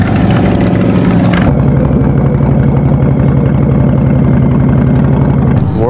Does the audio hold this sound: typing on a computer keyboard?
no